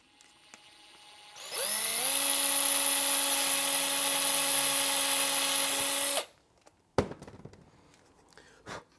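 A power drill boring pilot holes for Touratech handguards on a BMW motorcycle whines loudly and steadily for several seconds, then stops, followed by a few sharp handling knocks.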